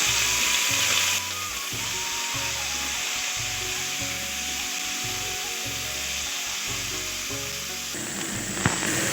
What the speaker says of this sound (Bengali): এবার একটু কাট পেঁয়াজ দিয়ে দেবো।